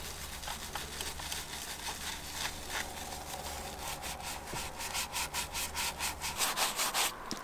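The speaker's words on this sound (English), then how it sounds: "you really need the interior brush to get in between the vents real deep" An interior detailing brush scrubs between the air vents of a Mercedes W212, making close, quiet scratchy brushing strokes that quicken into a rapid back-and-forth rhythm near the end.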